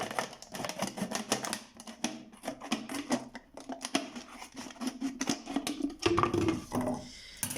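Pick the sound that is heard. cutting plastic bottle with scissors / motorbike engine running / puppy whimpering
cutting plastic bottle with scissors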